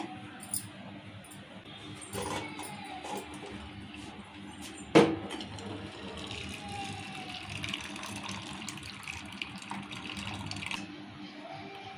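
Water is drained off soaked soya chunks (meal maker) in a home kitchen, making a steady, close pouring and trickling wash with one brief sharp clatter near the middle.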